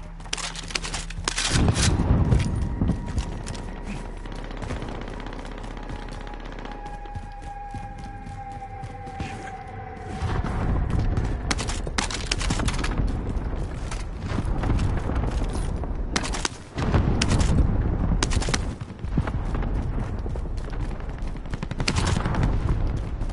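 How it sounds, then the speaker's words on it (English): Dense video game gunfire from a PS4 shooter, with repeated bursts and scattered shots that sound fairly close and loud, almost continuous over the whole stretch, sometimes mixed with booms, and no talking over it. "I hear bare shooting."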